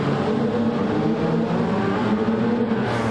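Steady engine drone of a race car braking into a hairpin during a 2024 CTC race, a constant mid-distance whine with no clear pass-by or talk.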